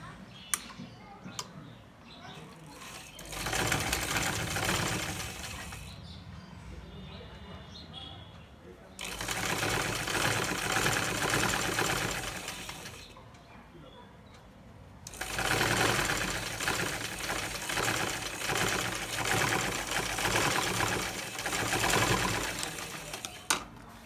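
Sewing machine stitching a hook-and-eye on a blouse, running in three long bursts of rapid, steady mechanical chatter separated by brief pauses with quieter handling sounds.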